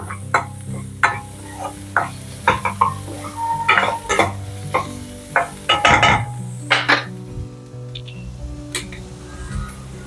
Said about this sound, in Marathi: मी मध्यम आकाराचा कांदा छान बारीक चिरून ठेवलाय तो घालणार आहे. हा थोडा आपण ब्राऊन करूया.